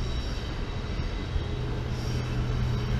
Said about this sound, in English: a freight train headed by a Freightliner Class 66 is approaching Platform 13